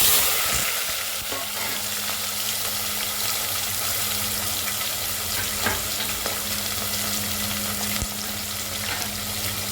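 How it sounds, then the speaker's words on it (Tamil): Mustard seeds, urad and chana dal and small sambar shallots frying in hot oil for a tempering, a steady loud sizzle with occasional pops and stirring, close up and without talking. "நல்லா பொரிஞ்சு பொரிஞ்சிச்சு சாம்பார் வெங்காயம் இருபத்தஞ்சி போட்டுக்கலாம்"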